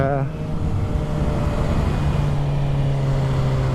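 A modified Suzuki GSX-R 750 motorcycle engine during an evening ride, a steady droning hum under loud wind rush, with a tone that shifts slightly partway through.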